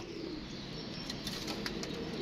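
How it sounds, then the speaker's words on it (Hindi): A teddy pigeon flaps its wings up close, a soft fluttering rush over steady outdoor background noise, with no talking. "ये देखें दोस्तों ये टैडी कबूतर है"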